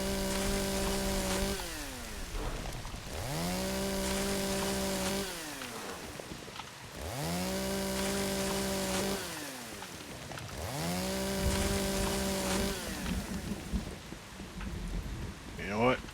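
Chainsaw cutting wood in the video game Once Human: three revving bursts, each climbing to a sustained high whine and then dropping off. Rain patters steadily underneath, and a faint voice is heard near the end.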